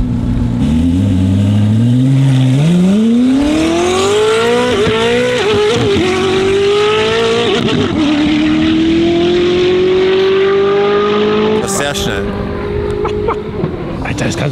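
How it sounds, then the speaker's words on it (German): A Koenigsegg fitted with a street-legal exhaust accelerates hard, its engine note climbing steadily through the gears with a loud, close roar and brief dips at each shift. Voices talk over the engine. "This is the street legal exhaust,"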